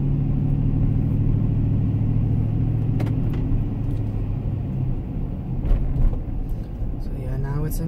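A truck engine holds a steady low rumble while driving in second gear at about 23 mph and just over 1500 rpm, fairly loud and continuous throughout, with a few light rattles near the end.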